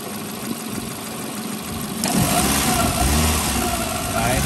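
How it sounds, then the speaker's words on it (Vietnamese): A 2009 Hyundai Getz with a 1.1-litre engine idles, then gets a quick throttle blip that raises its hum, heard close up with steady mechanical noise. "Ga một chút cho các bác nghe tiếng ga của em này này."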